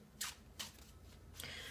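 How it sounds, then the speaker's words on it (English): A deck of tarot cards is shuffled by hand, making three quiet, brief papery riffles spaced apart over a soft background. "Now I'm just going to continue to shuffle the deck a bit more until I feel that the cards are ready for a cut."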